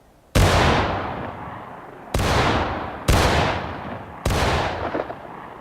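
A line of soldiers fires musket volleys in War of Rights, four loud booming bursts in sequence, each a sharp crack that rolls off into a long fading echo, close and without talk.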